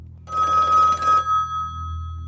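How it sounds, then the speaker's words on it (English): A telephone rings once, loud and close, the bell burst fading into a lingering tone that trails off in a quiet house. "it takes her a moment to realize the phone is ringing"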